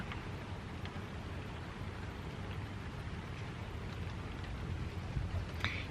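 Steady rain falls outside in Brussels on a grey day, a continuous dense hiss with faint scattered drip ticks throughout, fairly quiet and even with no voices.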